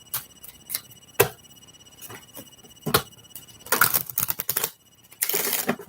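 Playing cards being handled and laid out one by one during a tarot-style reading, heard as sparse soft snaps and slaps with a few denser shuffling bursts, close and fairly quiet, with no talking.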